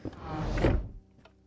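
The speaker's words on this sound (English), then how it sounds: "And the door closed." A door swinging shut in a quiet interior, a single muffled, low thud-like closing sound lasting under a second, followed by a faint click and then near silence.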